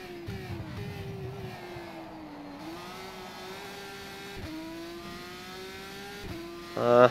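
A GP3 single-seater's engine in rFactor 2 lapping Dubai, a steady high engine drone that dips briefly at upshifts and swells into a louder burst at the end.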